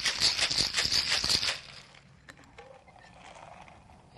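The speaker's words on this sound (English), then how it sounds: "Give it a good shake." Ice rattling hard in a cocktail shaker while a blue margarita is mixed, a rapid rhythmic clatter for about a second and a half, then quieter clinks as it settles.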